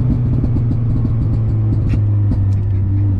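A cheap project car's engine drones loudly and steadily inside the cabin, a constant low rumble with only slight rises in pitch and no clear climb to redline.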